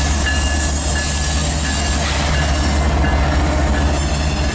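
A CN locomotive-hauled freight train rolling past loud and close, with continuous rumbling wheels and rail noise and no voices.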